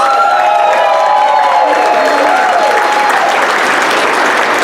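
Loud, dense applause from a dinner crowd at the 2025 Monterey Bay Central Labor Council awards dinner, greeting Robert Rivas, with cheering and a few whoops rising over steady clapping throughout.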